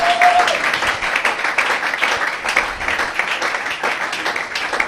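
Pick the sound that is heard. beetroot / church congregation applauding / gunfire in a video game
church congregation applauding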